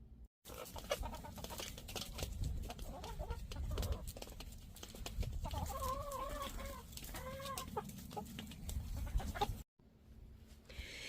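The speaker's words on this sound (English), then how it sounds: "Let's see if the chickens like that corn." Chickens cluck continuously at close range in a backyard coop, soft repeated calls layered with a few louder, drawn-out squawks, and a steady rustle and murmur beneath them before the sound cuts off abruptly.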